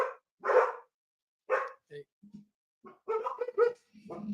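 A dog gives several short barks and yips at moderate distance as a dog walker passes, mixed with human speech throughout.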